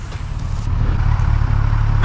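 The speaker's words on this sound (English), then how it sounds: "Nope, it's a car with one headlight." A car passes at night as a loud, steady low-pitched engine rumble with road noise that swells slightly toward the end.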